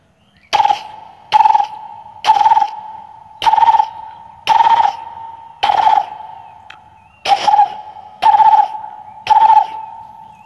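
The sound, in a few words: man imitating a parrot calling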